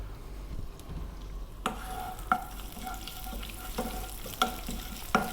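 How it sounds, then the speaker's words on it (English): Cumin seeds and curry leaves hit hot oil over above-medium heat, bursting into a steady close sizzle with sharp pops and crackles scattered throughout. "I'm dropping in the cumin seeds. Then I'm going to drop in the curry leaves."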